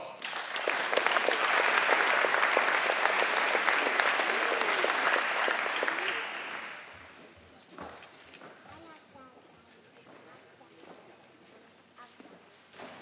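A community foundation annual meeting audience applauds as presenters take the stage, loud dense clapping for about six seconds before fading to scattered claps, footsteps and murmured talk.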